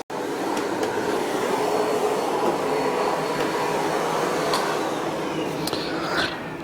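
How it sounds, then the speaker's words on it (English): A Miele CX1 Blizzard PureSuction Powerline bagless vacuum cleaner with a Parquet Twister floor head runs across a floor. It gives a steady, close whirring roar with a few light clicks and knocks as the head moves. "I love the Parket Twister. It's such a nice floor head to use."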